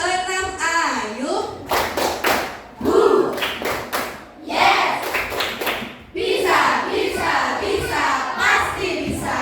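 A class of children claps a quick rhythmic pattern while chanting an Indonesian class cheer together in unison, loud and close, with bursts of clapping between chanted phrases.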